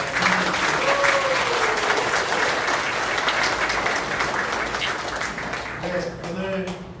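A crowd at a Korean party gathering gives a loud round of applause to an outgoing provincial chairman. The dense clapping fades gradually, with a voice speaking over it near the start and again at the end.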